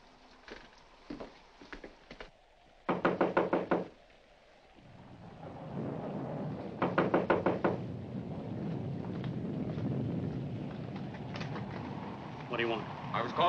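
Knocking at the front door of a house in a 1946 horror film: two loud, close bursts of rapid raps, a few seconds apart, over room noise and quiet voices.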